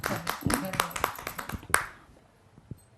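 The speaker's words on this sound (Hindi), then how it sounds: "एक बार मैम के लिए जोरदार तालियां" Audience clapping at a Hindi kavi sammelan poetry gathering, a short burst of scattered claps that fades out after about two seconds, with faint voices underneath.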